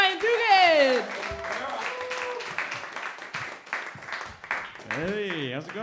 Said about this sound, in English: clap it up right now for your next comic. Clap it up for Ryan Dugan